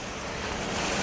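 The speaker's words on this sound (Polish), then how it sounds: "Wiatr." Wind blows outdoors in a small rural Irish village, a steady roaring gust that fills the brief moment with no voices.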